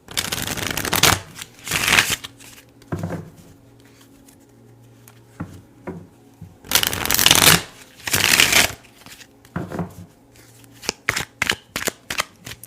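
Tarot cards shuffled in several loud bursts of riffling and patter, separated by quiet pauses and a few soft taps, close up with no talking.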